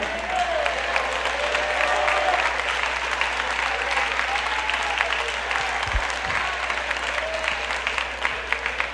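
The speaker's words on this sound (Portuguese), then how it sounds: "Eu quero ouvir palmas misturado com glória a Deus." Church congregation applauding in a sustained, dense burst of clapping for the full stretch, loud and steady with a voice briefly audible beneath it.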